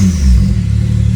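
Porsche 911 Carrera S with a valveless exhaust, giving a loud, close, deep engine drone held at steady revs.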